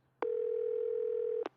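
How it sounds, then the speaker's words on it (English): A single long, loud, steady answering machine beep from a telephone line, sounding clean and alone for just over a second, with a soft click at each end. "Please leave a coded message at the beep."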